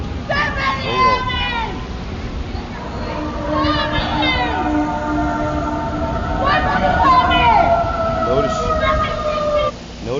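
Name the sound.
police or ambulance sirens in the street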